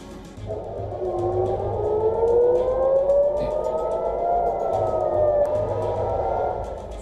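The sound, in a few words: civil defense air raid sirens over Israel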